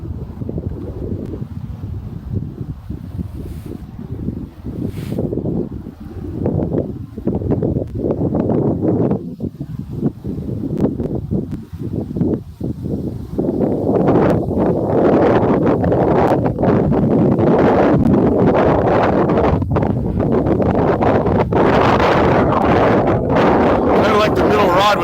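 Wind sweeps across a frozen lake during ice fishing, buffeting the microphone in gusts that build into a loud, continuous rush, with someone talking over it early on.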